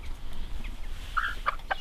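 A backyard hen, one of a flock kept for laying, gives a few short, bright clucks that come in quick bursts over steady low outdoor noise, fairly close and moderately loud.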